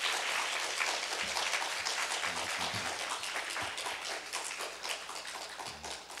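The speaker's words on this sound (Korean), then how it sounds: "박수로 환영하겠습니다." A church congregation at an anniversary revival service claps to welcome an elder, a loud, dense, sustained burst of applause filling the room and fading slightly toward the end.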